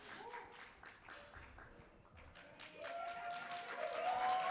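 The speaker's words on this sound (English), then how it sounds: "can we give it another round of applause for our Morningside campus candidates?" Audience at a campus candidates forum claps in a steady broadband patter, building louder toward the end, with some voices mixed in.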